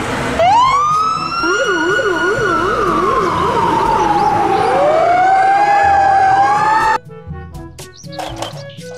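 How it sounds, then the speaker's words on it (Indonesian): A toy fire truck siren wails loudly and steadily, rising and falling up close for several seconds before cutting off abruptly. "Mobil truk pemadam kebakaran."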